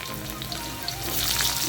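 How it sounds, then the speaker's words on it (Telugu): Shallots, ginger and green chillies fry in hot oil, giving a steady close sizzle and crackle that swells slightly toward the end, with no voices. "ఇదంతా 1 నిమిషం ఫ్రై చేద్దాము."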